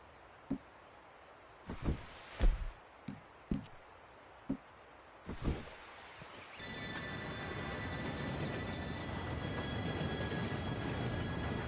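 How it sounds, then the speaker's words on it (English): A train in Red Dead Redemption 2 pulls in. A few scattered clicks and footsteps come first, then a steady rumbling roar of wheels on rails builds and holds, with faint high metallic squeals above it. "Train should be here in a minute now."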